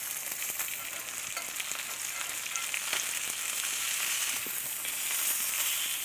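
A fish fillet sizzling in a hot pan as it is flipped, a steady crackling hiss of frying oil with small pops and spits throughout, close and fairly quiet.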